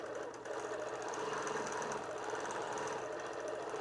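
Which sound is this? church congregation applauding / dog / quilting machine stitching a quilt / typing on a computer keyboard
quilting machine stitching a quilt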